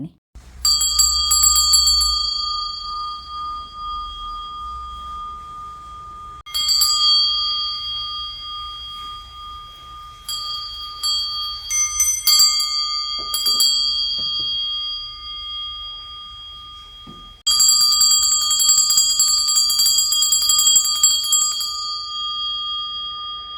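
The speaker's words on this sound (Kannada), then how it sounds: "ಒಂದು ನಿಮಿಷ ಸೂಕ್ಷ್ಮವಾಗಿ ಈ ದೇವರ ಗಂಟೆಯ ನಾದವನ್ನು ಕೇಳಿ" A heavy 10 kg brass puja bell is struck several times. Each strike rings out bright and loud, then leaves a long, shimmering resonance that slowly fades before the next hit.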